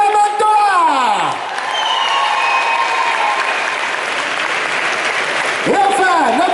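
A convention audience at a Paris Manga panel with international actors applauds and cheers continuously as guests are introduced, with a speaking voice over the crowd at the start and end.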